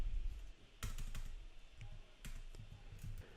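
Code being typed on a computer keyboard, quiet and close, with irregular bursts of key clicks and short pauses between them.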